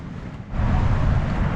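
Strong wind blows across an open ball field and roars against the microphone as a loud low rumble that rises sharply partway through and then stays heavy.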